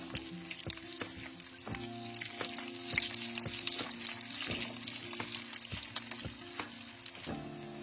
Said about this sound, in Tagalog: Igisa natin ang mga ito hanggang maging aromatic.